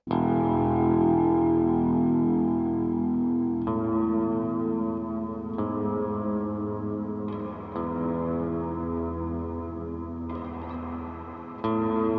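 A hybrid bass guitar played through a Walrus Audio Ambient reverb pedal, sustained notes and chords swelling into a thick, washy reverb tail, with several fresh plucks re-articulating over the lingering ambience, loud and alone.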